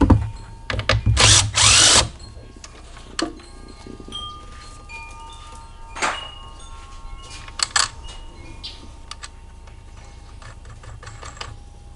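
A power drill on a Dodge Dart with a 2.0L or 2.4L engine undoes the battery box fasteners in short, loud whirring bursts, with quieter ratcheting clicks and pauses between them.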